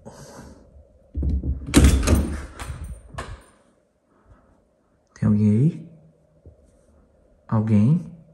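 A house door leading outside is eased open slowly, giving a drawn-out creak and a couple of soft knocks and thuds, with quiet gaps and a person speaking briefly.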